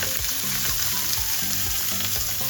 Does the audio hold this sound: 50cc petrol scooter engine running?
no